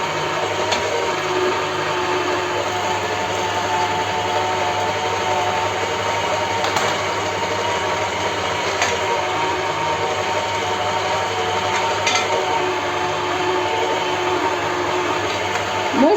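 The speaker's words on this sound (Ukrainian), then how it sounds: "І разом з цибулею будемо молоти." An electric meat grinder minces chicken breast together with onion, a steady loud motor whine with rumbling grind running continuously throughout, with no voices.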